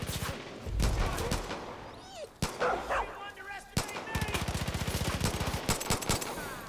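Rapid bursts of gunfire in Far Cry 5 crackle through the clip, mixed with a dog's barks and someone talking excitedly over the shots.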